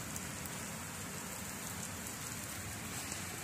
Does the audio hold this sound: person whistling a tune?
no